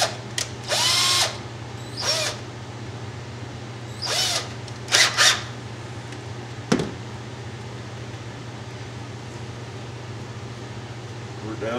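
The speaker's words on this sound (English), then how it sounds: "Pre-drill your holes so it doesn't split." A small power drill pre-drills nail holes in wood while building a gate for a carved cowboy's horse. It gives several short, close whirring bursts over a steady low hum, with gaps of quiet between them.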